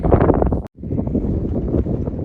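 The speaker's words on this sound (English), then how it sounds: "I know it's windy" Strong gusts buffet the microphone with a dense low rumble on the Appalachian Trail between Sam's Gap and Erwin, Tennessee, briefly cutting out before the roaring wind noise resumes.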